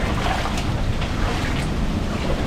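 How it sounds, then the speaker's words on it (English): Ocean waves crashing on rocks at To Sua in Samoa, a steady broad roar of surf and water wash with some wind noise on the microphone, continuous and fairly loud. "Oh, there's the waves."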